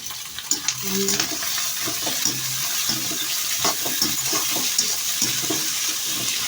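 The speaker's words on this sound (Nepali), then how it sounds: "प्याज मजाले चलायो, अब त्यसलाई पनि मजाले चलाऊ।" Onions stirred and frying in a pan, a steady close sizzle broken by repeated scraping and clattering strokes of a spoon against the pan.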